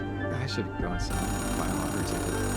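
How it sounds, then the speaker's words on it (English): Payphone ringing in the video game Oxenfree II, a steady electronic ring sustained under someone talking, moderately loud alongside game background sound. "Payphone ringing in the wild?"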